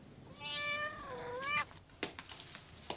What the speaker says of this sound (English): See something? The cat.